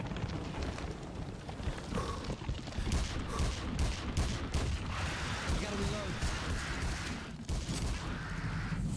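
Pistol gunfire in the video game Peter Jackson's King Kong, with repeated shots in quick bursts over a dense, loud wash of game noise and rumble that continues throughout.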